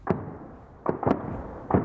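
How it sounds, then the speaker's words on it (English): Scattered gunshots crack through a battle between Ukrainian and Russian troops fighting at close quarters, four sharp reports with uneven gaps between them, fairly close and with no voices. "The air crackles with the sound of gunfire."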